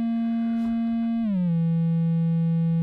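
Serge NTO analog oscillator sounds a clean, steady, nearly pure tone that glides smoothly down in pitch partway through and then holds the lower note, with a faint background hiss.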